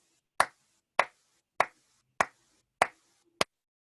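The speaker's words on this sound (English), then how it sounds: "this is me clapping my hand" One person claps their hands six times in a steady, evenly spaced beat, each clap sharp, dry and close, with silence between the claps and no other sound.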